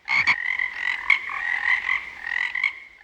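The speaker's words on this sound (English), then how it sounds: "what do the frogs have to say?" Several frogs croak steadily and close, a dense rhythmic chorus of raspy calls running throughout without pause.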